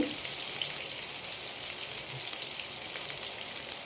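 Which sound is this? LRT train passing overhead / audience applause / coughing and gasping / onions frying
onions frying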